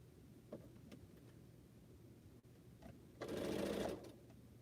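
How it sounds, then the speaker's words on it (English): A home sewing machine runs in one short burst of rapid stitching, sewing a small fabric piece onto a quilt chain block, preceded by faint handling clicks in a quiet room. "This is my chain block, and I'm sewing a small piece onto it."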